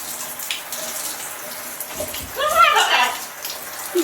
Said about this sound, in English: You getting your shower?